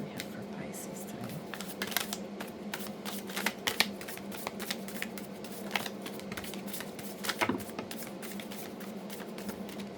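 Tarot cards are shuffled close up: a dense run of soft crackling riffles and flicks over a low steady hum, with brief louder bursts.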